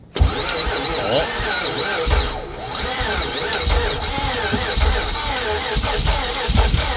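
A Nissan 3.5L engine down a cylinder or two cranks and sputters roughly, revving unevenly with a busy mechanical rattle close by, running continuously for several seconds.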